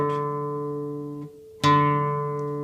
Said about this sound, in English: using just the nail exclusively, which gives a more brittle sound